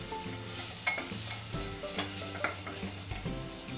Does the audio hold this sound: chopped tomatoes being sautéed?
yes